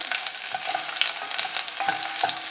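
Curry leaves, garlic cloves in their skins and dry red chilies sizzle and crackle in hot oil for garlic rice, a dense continuous frying hiss with occasional stirring clicks, close and fairly loud with no talking.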